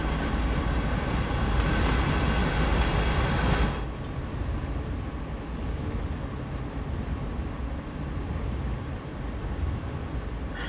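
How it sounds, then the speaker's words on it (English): A train in the Train Sim World simulator rolls into a siding at low speed, giving a steady, close rumble of wheels and a drone that softens after a few seconds and continues evenly with no voices. "Into the siding we go with our nice train."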